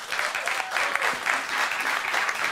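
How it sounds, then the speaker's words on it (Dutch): Warm applause from a debate audience in Amsterdam for a DENK politician, a dense crowd of hands clapping steadily and loudly, with brief swells throughout. "Geef hem een warm applaus."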